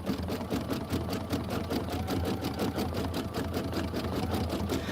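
A home sewing machine stitches quilted pillow blocks in a fast, even rhythmic whir of needle strokes, close and continuous with no talking.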